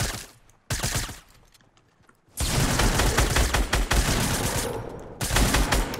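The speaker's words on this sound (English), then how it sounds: "I'm going to shoot this guy." Rapid automatic gunfire in the Fortnite Battle Royale video game, loud close bursts of shots, a brief one followed by a longer sustained volley and another burst at the end.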